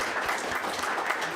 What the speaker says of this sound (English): Also an applause, I would think.